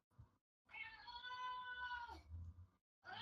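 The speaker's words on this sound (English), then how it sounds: "That's a cat?" A cat lets out a long, loud, strained meow that sounds almost like a human scream, swelling and then bending downward before breaking off, with short bursts of other sound just before and after.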